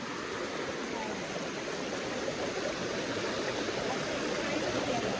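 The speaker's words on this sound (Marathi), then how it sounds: "हे बघा ही नदी है" River water flowing near farm fields in rainy-season Konkan, a broad, steady rushing wash that stays even and fairly close for the whole stretch, with no talking.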